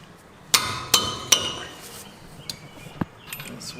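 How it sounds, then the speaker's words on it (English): A hammer strikes a brake rotor on a 2007 Nissan Xterra three times in quick, sharp metallic clanks, followed by a few lighter taps and clinks, close and distinct. "Time to beat the rotor off."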